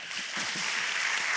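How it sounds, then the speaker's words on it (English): Audience applause for a panel of doctors at the close of a discussion, a dense wash of clapping that holds steady and fairly quiet throughout, without voices. "Let's give them a round of applause"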